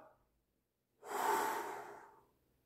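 One long, heavy exhale after a cold shower, a loud rushing breath lasting about a second, close to the mic and alone.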